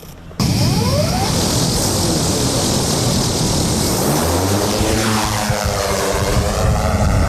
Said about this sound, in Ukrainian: бойовий дрон готовий до злету